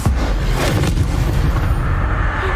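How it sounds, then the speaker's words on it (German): A loud, booming explosion in Hogwarts Legacy, with a heavy low-end blast at the start followed by rumbling debris and crackling that sustains for a couple of seconds, no voices. "Boah, der hat es voll explodiert."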